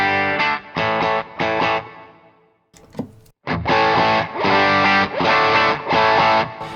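Electric guitar chords driven through a Tube Screamer overdrive pedal, strummed in bursts of crunchy, saturated tone, with a brief pause and a few muted scratches before a louder run of sustained, gritty chords.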